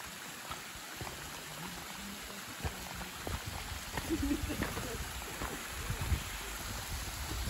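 A mountain stream at the source of the Arabuki River in a valley gives a faint, steady rushing trickle, quiet and continuous, with occasional voices nearby.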